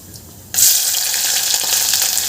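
Finely chopped onion dropped into hot oil with cumin and whole spices for spinach pulao, bursting into a sudden loud sizzle that holds steady and crackling after a quiet start.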